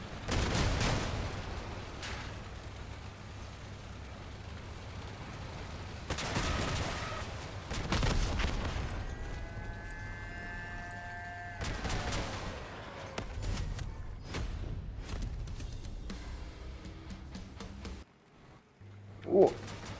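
Vehicle combat in the video game Crossout, with a hover-cab build facing Helicon weapons: repeated heavy gunfire bursts and booming impacts spread across the fight, separated by quieter stretches, with occasional brief speech.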